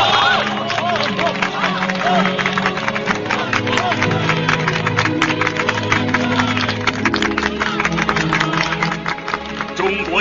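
A large crowd at a revolutionary rally in a Chinese uprising war drama cheers and applauds without pause, a dense, loud wall of clapping and shouting.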